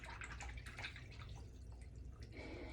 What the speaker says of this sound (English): At that point, you can rinse off your brush.